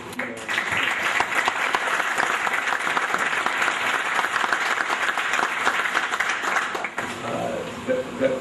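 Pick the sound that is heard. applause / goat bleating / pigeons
applause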